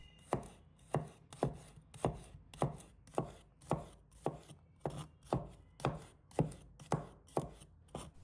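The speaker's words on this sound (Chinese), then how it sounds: "接下来我们来准备几个大蒜，把它切成片" A kitchen knife slices garlic cloves on a cutting board during home cooking prep for stir-fried broccoli, each stroke a crisp close-up chop in a steady rhythm, roughly two per second, with no voices.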